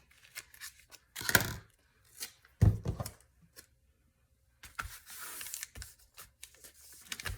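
Paper being trimmed for a grungy handmade journal cover: a few separate crisp snips and tearing rustles with quiet gaps between them, close and fairly soft, no talk.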